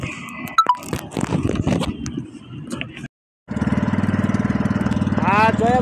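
A new fishing boat engine, still being broken in and run gently, idles with a steady, even chugging after a short silence. Talk and clattering come before it, and a rising whistle-like tone sounds near the end.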